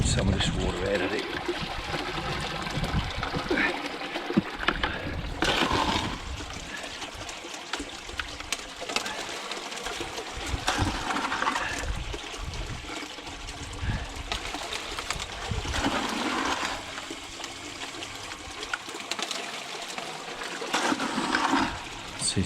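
Water flowing and trickling out of a partly blocked pipe, a steady broadband wash with splashing surges that continues throughout, heard near and fairly loud under intermittent talk.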